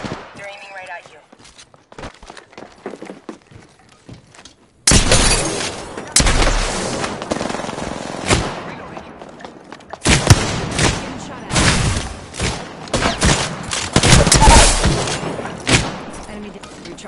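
Gunfire bursts out in an Apex Legends battle royale match, loud overlapping shots and booming impacts that turn dense in the second half, with quieter clicks and voices near the start.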